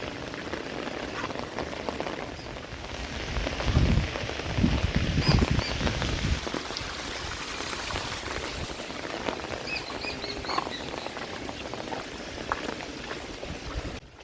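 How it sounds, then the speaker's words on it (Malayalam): Heavy rain pours steadily on a forest path overgrown with grass, a dense, continuous hiss with heavier drumming patches that swell and ease, with no voices over it. "അപ്പോൾ അത്യാവശ്യം നല്ല മഴ ഉണ്ട് കേട്ടോ"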